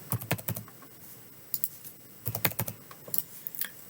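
Number values keyed in on a computer keyboard, with quick bursts of close, crisp clicks separated by short pauses and no talking.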